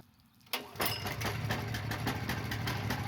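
A gasoline pressure washer engine starts up abruptly and settles into a steady, close, rumbling run with a faint buzzing rattle, following a brief quiet moment at the start.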